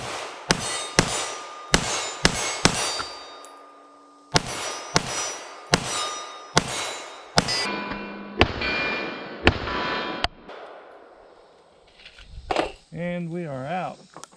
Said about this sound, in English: We're gonna shoot it without the compensator first